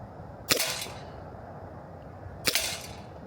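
Two sharp CO2 BB pistol shots tear through a plastic coffee can lid, spaced about two seconds apart, each a crisp snap with a brief rattling tail over low background hiss.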